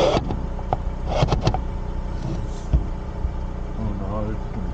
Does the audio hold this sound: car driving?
yes